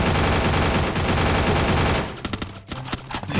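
Free Fire video game gunfire: a dense, loud burst of continuous automatic fire, then a series of sharper separate shots with short gaps.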